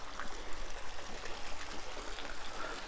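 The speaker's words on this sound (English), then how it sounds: "You get to hear the water" Water from a backyard pool trickling and gurgling in a steady, soft, continuous stream, heard alone at moderate distance.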